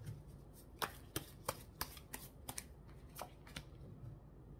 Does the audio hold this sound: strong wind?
no